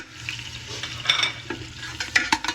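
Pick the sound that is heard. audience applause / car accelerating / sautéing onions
sautéing onions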